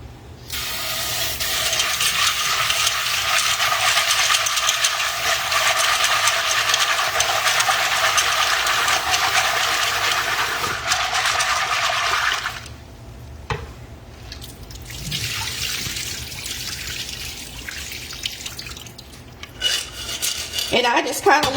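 Dried beans are washed in water inside a pot, a loud continuous rattling and rinsing hiss that pauses briefly and resumes more softly.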